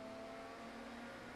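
A race car in the iRacing video game at Daytona, during an 8-hour endurance race, passes nearby with a steady engine drone, fairly quiet and unbroken across the short moment.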